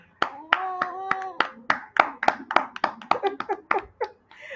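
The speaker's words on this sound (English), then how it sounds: "Clap yourself." Children clap their hands during a phonics class, a run of sharp, separate claps in uneven rhythm close to the microphone, with a voice briefly singing or talking over the start.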